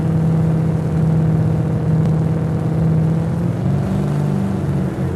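A Mitsubishi Lancer and a rear-wheel-drive BMW 330d racing in the Top Drives video game, a steady loud engine drone with a sustained hum and slight rise in pitch, no voices over it.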